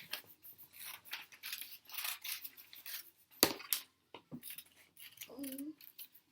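Paper circles are cut out with scissors for a Veterans Day craft, giving a string of crisp, close snips and crunches in uneven bursts, with a short hummed voice near the end.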